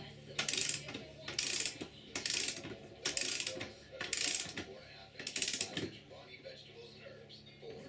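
A ratchet wrench tightens the rear axle nut on a bobber motorcycle build: six close, crisp ratcheting bursts arrive at a regular pace about a second apart, with brief pauses between strokes.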